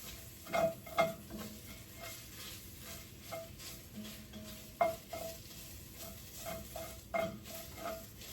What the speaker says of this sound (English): You're going to stir that up real good and just let it cook for just like a minute again.